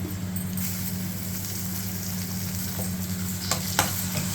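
Curry leaves crackle and fry in hot oil for a snake gourd and Bengal gram curry, a steady close sizzle with a low hum beneath and a couple of sharp pops near the end, no voices.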